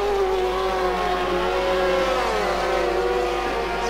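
A GT2 race car in Assetto Corsa pulls out of the pits at Monza during an endurance race. The engine drones steadily and loudly, pitch rising and falling as it revs through the gears, with no voices.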